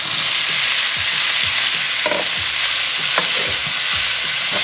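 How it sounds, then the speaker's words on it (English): Potatoes sizzle and fry in a pan as they are stirred back in, a loud close hiss with scraping stir strokes repeating throughout. "let's add our potatoes back in"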